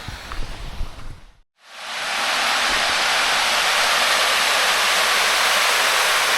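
Water rushes steadily over a dam at a mountain reservoir, a loud, continuous broadband roar that starts abruptly after a brief quiet gap and holds constant, with no voices.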